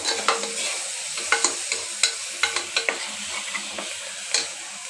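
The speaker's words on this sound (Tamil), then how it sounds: "ஒரு கைப்பிடி அளவு மல்லித்தலையும் புதினாத்தலையும் சேர்த்து அதையும் நம்ம வந்து நல்லா வதக்கி விட்டுக்கலாம்." Coriander and mint leaves sautéing with chilli powder and garam masala for a kuska: a close, continuous sizzle broken by quick, uneven spatula scrapes and taps against the pan, with no voices.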